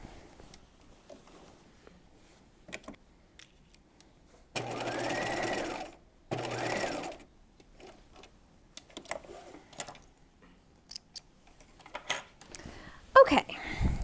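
Two short bursts of a sewing machine stitching vertical lines to divide the pockets of an artist apron dress, separated by a brief pause, amid quiet handling noises.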